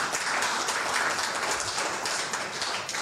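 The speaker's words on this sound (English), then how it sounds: "let's applaud the future of this state" Audience applause at a gubernatorial debate: a steady, dense wash of clapping that holds at an even level for the whole stretch, with no voices standing out.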